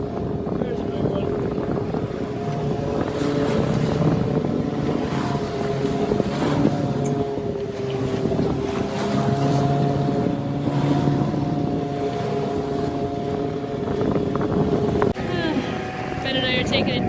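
A boat pitching through big rolling waves on Lake Superior, with a steady broadband rush of water and wind noise on the microphone throughout. A low motor hum runs underneath, and people talk over it.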